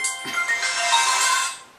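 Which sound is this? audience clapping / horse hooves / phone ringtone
phone ringtone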